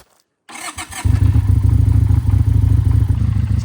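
A V-twin motorcycle engine cranks briefly after a moment of silence, catches and settles into a loud, close, throbbing idle with a slightly rattly, uneven pulse.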